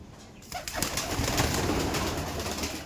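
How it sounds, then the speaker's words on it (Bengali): Kaldom pigeons in a loft, a dense chorus of overlapping coos and rustling that swells in after a brief quiet start and carries on steadily, close and fairly loud. "দেখুন পায়রাগুলো দেখুন"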